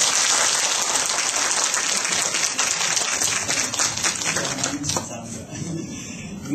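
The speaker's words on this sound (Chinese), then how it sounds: "好，那我们现在以热烈掌声欢迎杨医师。" Audience applause welcoming Dr. Yang at a talk, a continuous dense patter of many hands clapping that fades toward the end.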